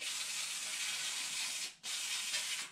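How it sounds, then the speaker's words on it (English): A steady, close hiss of air spraying clean a Stihl 038 chainsaw air filter, cut off for a split second before resuming just as strongly. "we can just spray this air filter off to clean it"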